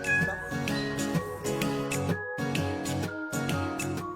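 Several cats meow repeatedly in a steady, overlapping rhythm, fairly loud and nearby, with no talking, at an animal facility in Aksaray, Turkey.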